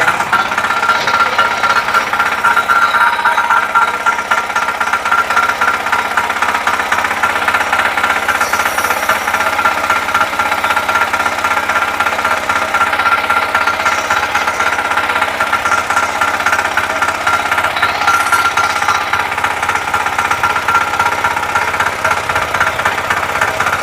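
A Kama power tiller engine running in first gear, a loud, steady, fast knocking chug that continues without pause throughout, with no voices over it.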